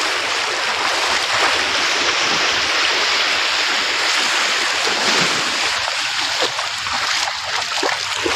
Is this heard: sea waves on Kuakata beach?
yes